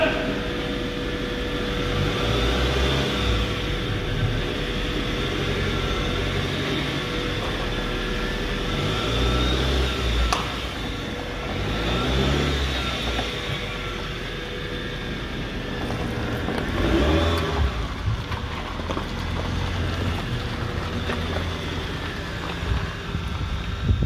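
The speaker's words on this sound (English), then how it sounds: "we're going to back the car out of the shop" A car rolling backward out of a shop: a low engine rumble and mechanical drone, steady with some swells, heard close alongside wind buffeting on the microphone.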